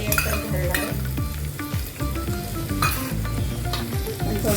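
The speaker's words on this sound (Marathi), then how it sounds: "पण थोडी परतवून घेऊया" Grated raw mango sizzles and fries in a hot pan, stirred steadily with a utensil scraping the metal in a busy, continuous rhythm, loud and close with no voices.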